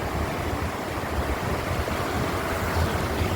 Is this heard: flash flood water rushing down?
yes